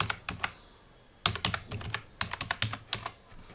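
Keystrokes on a computer keyboard come in quick bursts of close, crisp clicks, entering a tmux command on Ubuntu, with a short pause between the first few taps and a denser run of typing.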